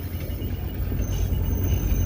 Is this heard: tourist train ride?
yes